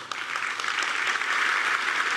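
Audience at a Batman comics panel claps in a sustained, fairly distant wash of applause, steady throughout.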